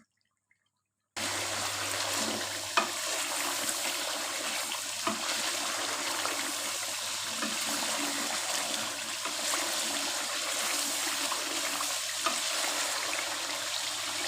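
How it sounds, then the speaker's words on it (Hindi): Chicken shahi korma masala with yogurt sizzles and fries steadily in a pan, a continuous close hiss with light stirring clinks after a brief silent start. "अब इसकी एक दफ़ा फिर से अच्छे से भुनाई करके फिर हम इसमें थोड़ा सा पानी"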